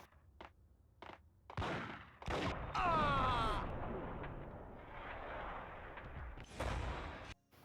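Bursts of gunfire from a PS2 third-person shooter crack out in short volleys, one followed by a ringing whine, over a rumbling game-like background.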